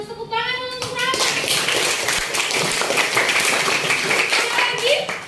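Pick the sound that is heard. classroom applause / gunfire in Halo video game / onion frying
classroom applause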